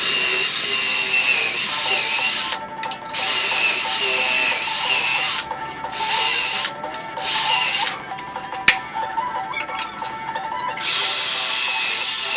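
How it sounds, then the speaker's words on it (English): A power drill whines in several sustained bursts separated by short pauses, loud and close, boring pocket holes into wood with a Kreg pocket hole jig, with rising and falling pitch. "I'm going to use my Kreg pocket hole jig to drill out some pocket holes."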